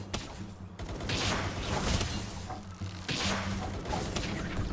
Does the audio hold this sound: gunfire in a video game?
yes